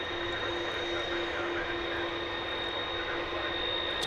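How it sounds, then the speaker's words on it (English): An American Eagle Embraer 175 jet approaches DFW Airport, its engines producing a steady, continuous roar at moderate distance that neither rises nor fades, with no talking. "It's an American Eagle Embraer 175."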